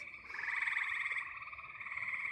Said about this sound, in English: the frogs are loud